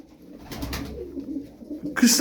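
Soft tumbler pigeon cooing murmurs through the clip, with a brief rustle or flutter near the end.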